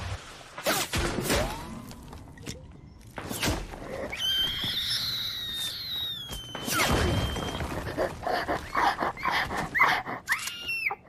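Dog barks and whimpers from a video game character, coming in short bursts with sharp yelps and whines amid busy game effects and clattering background noise.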